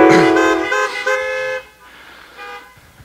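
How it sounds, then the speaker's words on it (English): A car horn honks at a drive-in church service, with a long loud blast followed by a few shorter toots that fade into quieter honks and outdoor background noise. "There's always one last honk."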